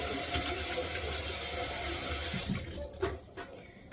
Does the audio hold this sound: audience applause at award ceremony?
no